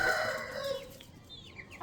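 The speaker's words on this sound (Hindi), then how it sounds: "नीचे ये एक स्लेटी सी मुर्गी खड़ी है" A grey hen with her chicks in a coop gives soft clucks alongside faint, high chirping, close by and fairly quiet.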